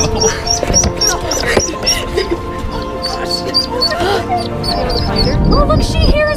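High, squeaky peeps from four small ducklings rescued from a sewer repeat rapidly and close by, mixed with soft quacks and background chatter.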